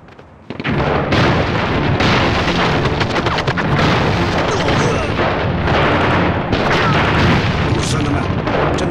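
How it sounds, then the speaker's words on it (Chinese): A bomb goes off in an anti-Japanese war battle: after a brief quiet moment, a loud, deep blast breaks into a long, roaring, rumbling wall of explosive noise that stays heavy and close to the end. "黑子，爆炸弹。"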